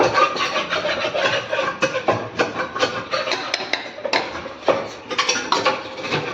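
Metal spoon scraping and clinking against a mixer grinder jar, spooning out masala in quick, uneven strokes, close and fairly loud, with no talking.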